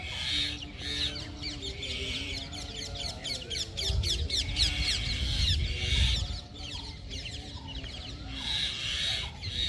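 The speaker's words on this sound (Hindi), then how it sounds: "यहाँ तोते और मैना में झगड़ा हो रहा है।" Parrot and myna squawking and screeching as they fight over a single nest, a dense run of harsh, overlapping chattering calls that persists loudly throughout with a few brief lulls.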